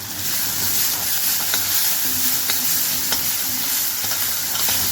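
A paste of green chillies and coriander leaves sautéing in a pan for shahi murgh musallam, a dense, continuous close sizzle with spatula strokes scraping through it at irregular intervals.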